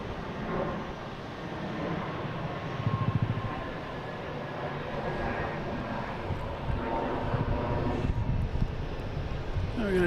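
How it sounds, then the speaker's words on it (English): Jet airliner taking off at Boston Logan Airport on a flight to Edinburgh, a steady broad engine roar swelling slightly over ten seconds, fairly loud and continuous with wind noise mixed in. "We have one more plane taking off heading to Edinburgh."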